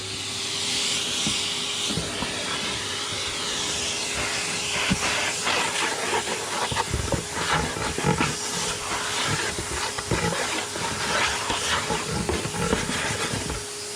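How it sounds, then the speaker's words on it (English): Vacuum cleaner drawing air through a stocking, a steady close hiss and whine running the whole time with a constant motor hum beneath. "I'll quickly vac that out and reuse it"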